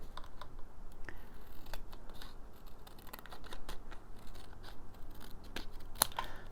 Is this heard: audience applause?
no